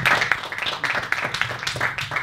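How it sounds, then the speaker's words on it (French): A crowd applauds Elsa at a speaking event, dense steady clapping from many hands, fairly loud and continuous throughout with no break. "Alors vous pouvez applaudir Elsa."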